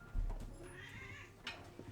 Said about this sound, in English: my cat is already being fussy, demanding to sit on my lap